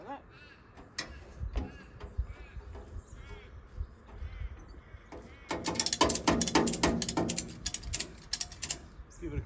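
A ratchet tie-down strap is cranked on a car trailer to secure a vehicle, giving a loud close run of rapid clicking ratchet strokes after some handling noise and someone talking.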